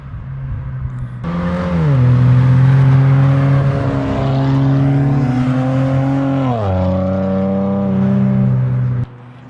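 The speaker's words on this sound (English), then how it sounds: "it sounded like those cars coming back." A loud car engine roars close by, revving up and holding a strong hum before the pitch drops as it passes, then cuts off.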